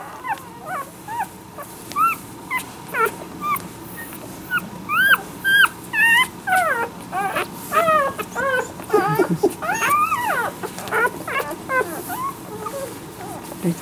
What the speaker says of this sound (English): This puppy is Gambler.